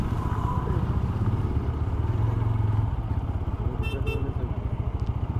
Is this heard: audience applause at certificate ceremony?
no